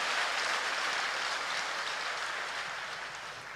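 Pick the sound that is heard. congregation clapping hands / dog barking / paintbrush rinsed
congregation clapping hands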